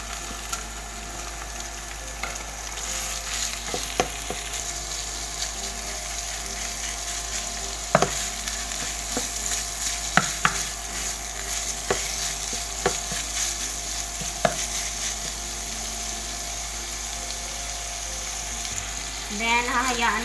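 Ground pork sizzling in a pan for Filipino lumpiang hubad, a steady broadband fry hiss running throughout with scattered clicks of a spoon or spatula scraping and stirring, close and moderately loud, no voices.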